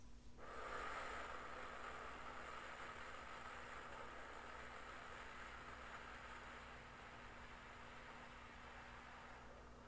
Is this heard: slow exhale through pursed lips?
yes